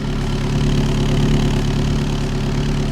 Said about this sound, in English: just listen to the exhaust tone